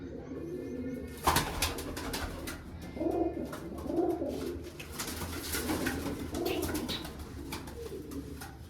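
Pure peacock pigeons coo inside their coop, a series of soft throaty rolling calls repeating roughly once a second, close by, with one sharp rustle or knock near the start.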